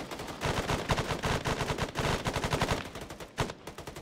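Rapid bursts of M240 machine gun fire in an Arma 3 battle, loud and continuous for the full length with dense repeated cracks and a sharper shot near the end.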